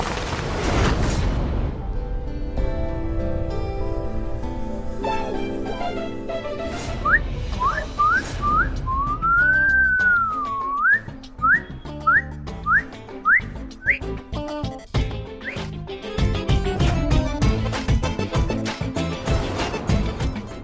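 A man whistles at a woman, a run of sliding wolf-whistle notes rising and falling over loud dramatic background music, with no talk.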